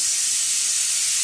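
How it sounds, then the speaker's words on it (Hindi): A pressure cooker with bottle gourd boiling inside releases a steady, loud hissing whistle of escaping steam, close and continuous. "लौकी जो उबलना रखा था, सीटी आ गई"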